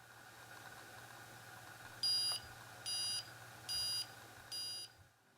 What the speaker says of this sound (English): So you press down the button and you're going to hear some beeps